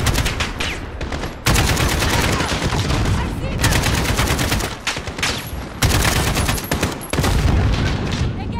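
AK rifle fire in the Modern Warfare video game campaign: loud sustained automatic bursts in several long strings separated by brief pauses, with talk faintly underneath.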